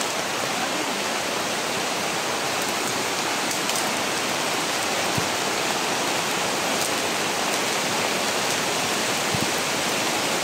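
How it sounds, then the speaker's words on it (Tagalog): Heavy rain pours down steadily and loudly, a dense unbroken wash of falling water with occasional sharper drips, continuous for the whole stretch with no voices. "lakas talaga ng ulan tol"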